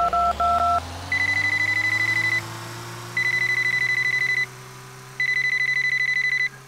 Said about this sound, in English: Hold on. I got to make a phone call real quick.